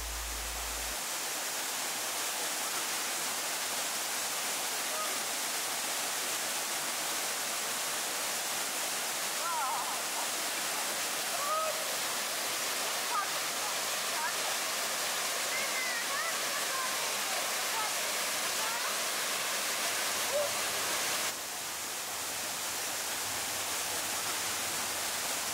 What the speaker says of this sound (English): we arrived to incredible waterfall hidden in the middle of the jungle